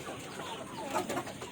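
KUB chickens in a coop give a brief burst of soft clucking, several birds close together over a low farmyard hum.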